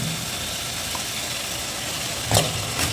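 Mustard seeds sizzle in hot oil while nombu kanji is being cooked, a steady hissing fry with a couple of brief louder pops and stirring clatters near the end, no voices.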